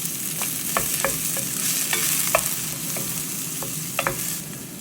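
Onions and garlic fry in hot oil for a monggo dish, a close, continuous sizzle and crackle with scattered utensil taps and stirring scrapes, no voices.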